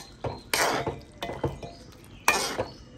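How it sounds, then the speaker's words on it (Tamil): A spoon stirring mutton curry in a pot, a few distinct scraping clanks against the pot with quieter wet shuffles between them, close and moderately loud with no talking. "இதை திறந்து நல்லா கிளறி போட்டு சூடாக மட்டும் மூடி விடுவோம்"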